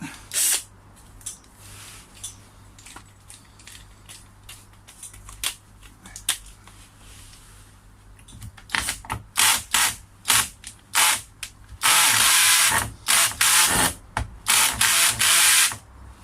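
A power drill backs a screw out of wood while the timber frame of a koi pond is being strengthened, heard as a series of loud ratcheting bursts and short whirs, close by, after a quieter stretch of handling.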